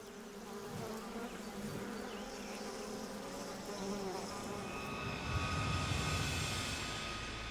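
A swarm of wasps drones steadily throughout, a dense, continuous buzzing hum that swells slightly toward the end, fairly close, with no voices.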